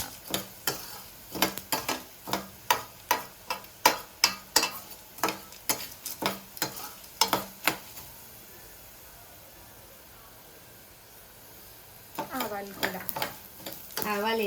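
Moringa leaves stir-fried on low heat, mustard seeds in the pan: a steady run of close scraping stirs in quick rhythm over a soft sizzle, then a quiet stretch of low frying before stirring resumes near the end.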